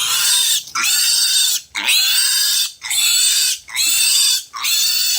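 A pig squealing during castration, loud shrill piercing screams repeated in five long bursts with short gasping breaks between them, close and intense.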